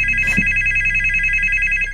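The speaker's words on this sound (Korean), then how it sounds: "어김없이 영숙의 전화가 걸려오는데." A telephone ringing, a steady bright electronic ring tone held continuously and loud, with a faint knock near the start.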